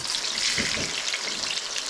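Fresh eggplant slices crackle and sizzle in hot oil, a steady close-up frying hiss with soft spitting bursts for under two seconds.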